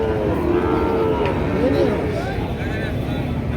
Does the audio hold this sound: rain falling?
no